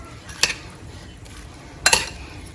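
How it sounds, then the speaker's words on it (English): A spoon stirring ingredients through olive oil in a pot, two sharp metallic clinks and scrapes against the pot with quiet rustling between them, no talking. "Then stir everything in."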